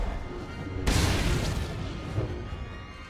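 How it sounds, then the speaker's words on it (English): A single deep boom from the foundry level in SWTOR erupts suddenly after a quiet lull, then rumbles and decays over a couple of seconds, with a softer secondary thump following. "Critical explosions detected on the foundry level."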